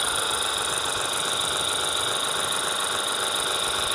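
A Ryobi 18V 600 PSI portable pressure washer sprays with its turbo nozzle, giving a steady, close hiss and whine of motor and water jet that runs unbroken and alone throughout.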